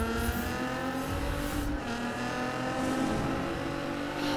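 A car engine in a video game street race revs loud and continuous, holding a steady high drone with layered harmonic whine throughout, close and dominant with no talk.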